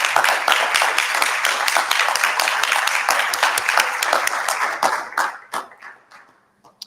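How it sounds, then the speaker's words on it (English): Audience applause at a Lynchburg city council work session, a dense burst of many hands clapping that holds steady, then thins into scattered individual claps and fades to near silence. "can we all please give them a round of applause?"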